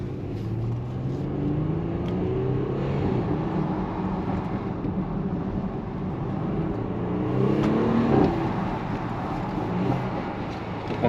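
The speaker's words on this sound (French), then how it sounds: "Je vais vous faire écouter le bruit du V6 juste après." Audi SQ5 with a 354 hp 3.0 V6 TFSI engine revving, a loud, steady close-up engine note that swells slightly about two-thirds of the way through, with no talking.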